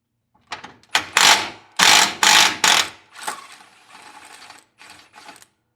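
Ratchet wrench loosening bolts on a vehicle steering sector during replacement, with bursts of loud rapid clicking in several separate runs, then quieter mechanical rattling and clinks up close.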